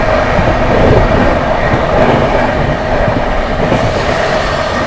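The Prayagraj Humsafar Express 22438 from Anand Vihar Terminal rushes past at speed while overtaking another express, a loud, close, continuous roar with rattling wheels and rail clatter throughout.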